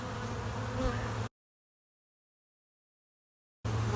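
Honey bees in a queenless cell-starter colony buzz in a dense, steady drone, close and continuous, broken by a long silent gap before the hum resumes.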